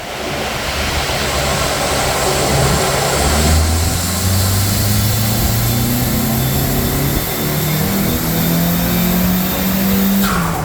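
A Nissan S15 at 17 PSI runs on dyno hubs, its engine droning loud and steady as the pitch climbs through rising revs, then drops and climbs again, with a constant rush of noise over it.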